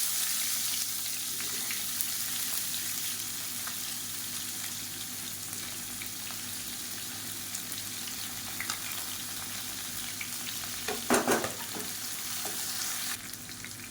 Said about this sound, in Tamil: இப்போ மீடியம் சைஸாக ரெண்டு பெரிய வெங்காயம் நீளமாக நறுக்கினதை சேர்த்துக்கலாம்